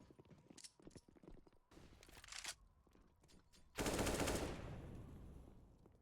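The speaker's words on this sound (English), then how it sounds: "Davey, though, nicely lined up headshot on the Creed there with that Desert Eagle" Gunfire in a competitive Counter-Strike match on the Nuke map, including Desert Eagle pistol shots: scattered sharp rapid bursts early, then a loud sustained volley of firing that fades gradually, with no talk.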